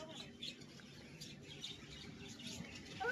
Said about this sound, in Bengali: এখানে পাখি আছে, এগুলো সব বদ্যি পাখি।